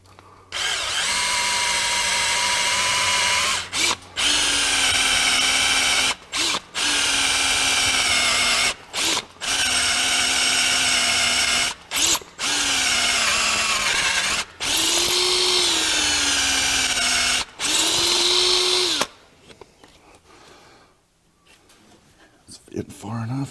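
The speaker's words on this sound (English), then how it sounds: "Into drilling it with a number 7 drill bit here for a 1/4-20." A power drill with a number 7 bit bores into metal in about eight long, loud whining bursts separated by brief pauses, the pitch sagging under load, before it falls quiet for a few seconds at the end.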